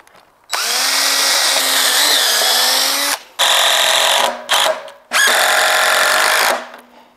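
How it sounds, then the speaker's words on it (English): Power drill driving long screws up into pallet wood from underneath, with a loud close whine lasting nearly three seconds, then a short burst, a brief blip, and another long run as the screw seats. "we can screw it from the bottom. Make sure you pilot hole this time, because we're using longer screws"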